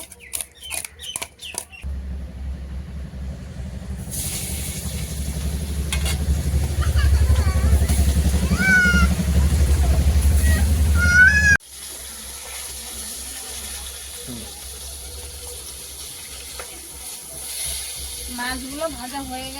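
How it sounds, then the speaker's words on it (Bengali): Fish fries in hot oil in a wok, the sizzle building into a loud steady crackle that drops abruptly partway, with a person talking over it. "কড়াটা গরম হয়ে গেছে আর তেলও দিয়ে দিয়েছি মাছটা ভালোভাবে ভেজে নেব"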